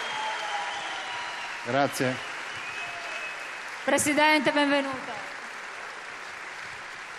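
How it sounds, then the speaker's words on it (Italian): A crowd applauds steadily to welcome governor Luca Zaia at a Lega Nord party celebration in Padova's Pala Geox arena, the dense clapping running throughout while someone speaks briefly over it twice. "Un bel applauso"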